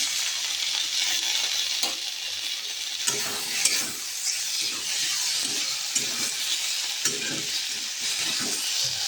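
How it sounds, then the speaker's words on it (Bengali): Potatoes and eggplant fry in a pan with ginger, cumin and garlic paste, giving a steady close sizzle broken by repeated scraping stirs of a spatula, with no voices. "তারপর মশলার সাথে আলু বেগুনগুলো বেশ ভালো করে লাল লাল করে ভেজে নেব।"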